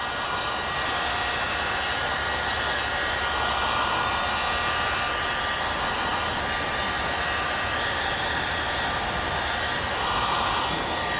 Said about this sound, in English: Let's grab our heat gun again and let's put down these edges real quick, all the way around